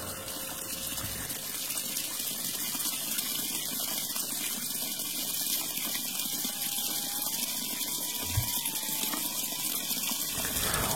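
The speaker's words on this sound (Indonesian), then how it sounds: "Lalu terdengar suara orang yang sedang mandi." Water running and splashing as someone bathes, a steady gushing pour like a tap or dipper, fairly near, with a couple of brief thumps and no talk.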